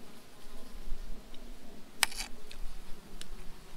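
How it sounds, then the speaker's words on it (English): A swarm of bees and flies buzzes steadily close by at an outdoor fishing spot during a meal, with a few sharp clicks in the mix and no talking. "We've amassed quite a swarm of bees and flies."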